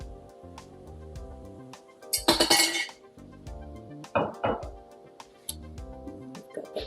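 A bar stir works through a carbonated cocktail in a glass, giving repeated light metallic clinks and taps against the glass under a soft musical backdrop, with a few brighter fizzing bursts.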